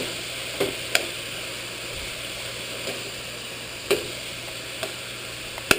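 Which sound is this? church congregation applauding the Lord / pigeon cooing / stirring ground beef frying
stirring ground beef frying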